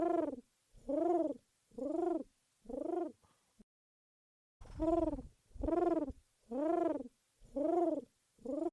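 A dove coos over and over in a steady rhythm, close and clear, with a short pause partway through.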